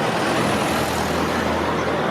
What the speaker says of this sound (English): That's one issue about living on this street is all the buses